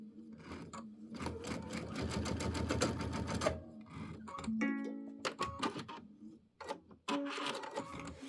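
A sewing machine set to a 2.0 center straight stitch runs a half-inch seam on a pieced quilt block, its steady rapid needle chatter going in a few bursts with brief pauses and stops, close up and alone.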